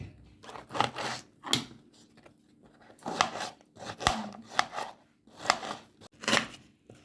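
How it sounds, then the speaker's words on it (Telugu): Ridge gourd is chopped into small pieces on a board in about ten crisp knife strokes, some in quick pairs and others spaced out, close and clear with no talk. "ఇదిగోండి బీరకాయలను ఇలాగా చిన్న చిన్న ముక్కలు కోసుకోండి"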